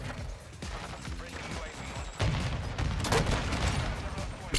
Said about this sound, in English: I'm literally just blind firing around corners and praying.